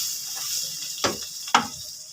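Thin second-press coconut milk hits a hot pan of Bicol express, giving a steady sizzle broken by two sharp splashy bursts close by.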